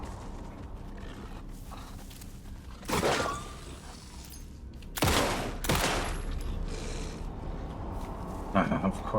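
Gunfire in the video game Alan Wake 2: a few heavy, close shots stand out over a rumbling, creaking game backdrop, with a voice talking between the blasts.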